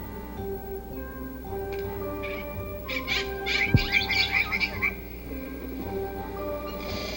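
Birds call around a fishing camp at Lake Guerrero in Mexico on a winter day, scattered chirps and short trilling bursts rising mid-way over a quiet outdoor background, moderately distant.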